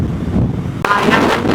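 Wind rushes loudly across the microphone during a motorcycle ride in heavy rain from Kanyakumari to Thrissur in Kerala, a constant buffeting roar with one sharp gust partway through.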